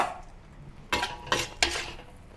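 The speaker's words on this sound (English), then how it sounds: "Remove it from the wok and now it's time to enjoy." A metal utensil clanks against a wok as Chinese black pepper chicken stir-fry is scooped out and plated. Three sharp, close clatters arrive a few tenths of a second apart over quiet kitchen background, with no talking.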